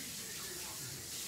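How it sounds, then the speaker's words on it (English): Hands rinsed under a running kitchen tap, a brief steady rush of water heard close up with no talk over it. "Let me rinse my hands."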